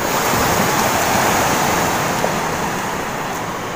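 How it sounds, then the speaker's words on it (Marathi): Sea waves wash steadily onto a clean beach, a loud continuous roar of surf with wind noise and no clear breaks between swells. "किती स्वच्छ समुद्र किनारा आहे"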